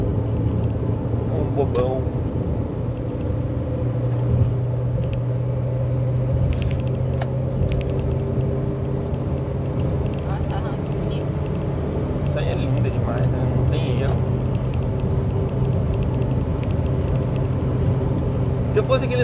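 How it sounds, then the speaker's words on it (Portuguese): A Toyota Corolla passes alongside on a road near Campo Grande, Mato Grosso do Sul, heard as a steady engine and road rumble from inside a moving vehicle, with a person talking over it. "O Corolla tá vindo aqui do lado, ele acha que ele vai passar eu assim."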